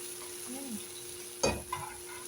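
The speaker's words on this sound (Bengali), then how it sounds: "শাকগুলা এইভাবে করে ভাজি করবেন, এভাবে করে ভেজে তাই খাবেন তেল দিয়ে" Leafy greens fried in oil give a soft steady sizzle, broken by a sharp stirring clatter near the middle and a smaller scrape soon after, close and fairly quiet.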